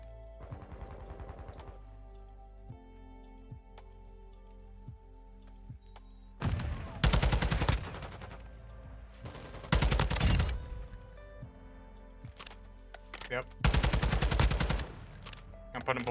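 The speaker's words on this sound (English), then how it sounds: "Putting bullets into him." Bursts of automatic gunfire in Call of Duty MW2 erupt in three loud, rapid volleys separated by quieter stretches of game ambience and scattered clicks.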